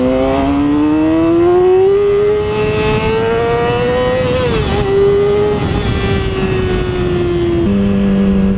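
A Yamaha R6 sport motorcycle engine revs loud and close, pitch climbing steadily, dipping briefly, then easing down and settling into a lower steady drone, with no voices over it.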